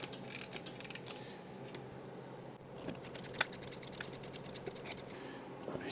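Socket ratchet clicking in quick, close bursts while tightening manifold nuts on a 1964 Triumph TR4 cylinder head, with short pauses between runs of clicks and faint background noise.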